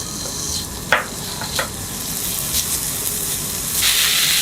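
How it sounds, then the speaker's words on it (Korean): Garlic stir-fries in about a spoonful of oil in a pan, hissing steadily up close, with a couple of sharp spatula knocks early on and the sizzle swelling toward the end. "마늘을 먼저 볶아주세요."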